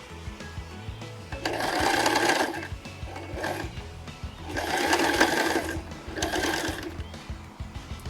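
A sewing machine runs zigzag stitches along elastic in three steady bursts of whirring, each a second or two long and close by, with short pauses between them.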